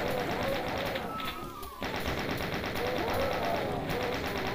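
Stealth chaingunner enemies fire in a Doom level, rattling bursts of chaingun shots up close with a brief lull partway through, set against game music and effects.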